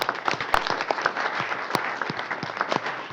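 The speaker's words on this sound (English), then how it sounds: "Let's give him a round of applause." A modest crowd at a city council meeting claps for a councilman, with individual hand claps standing out as sharp, uneven pops from a thin, scattered round of applause.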